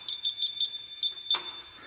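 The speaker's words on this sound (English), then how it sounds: "Sorry for the beeps, guys." A Martin's automatic tire inflator emits a quick series of high, evenly spaced electronic beeps, about six in a row, followed by a short burst of hiss, close and fairly faint.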